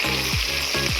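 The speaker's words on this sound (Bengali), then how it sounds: "তেলটাও গরম হয়ে গিয়েছে। এবারে চিকেনগুলো দিয়ে দিচ্ছি।" Chicken pieces sizzle and fry in hot oil in a kadai, a steady loud crackle with stirring or shifting sounds twice in a second, no voices.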